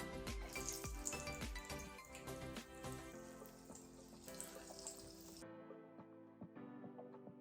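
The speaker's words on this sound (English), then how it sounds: "So we are going to gently whack them in the deep fryer." Pork pieces crackle and sizzle in hot oil in a deep fryer, a dense steady frying hiss with small pops that drops to a quieter bubbling near the end, no talk over it.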